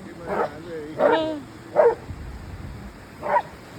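Four separate barks from a dog, spaced about a second apart, over a steady hiss of background noise; moderately close.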